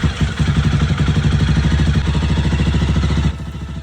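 A motorcycle engine idles after a cold start, a steady close, loud rumbling chug with rapid even firing pulses throughout, dropping slightly in level near the end.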